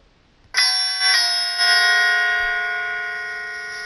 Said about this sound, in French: Alors on peut faire des sonneries horaires, des carillons.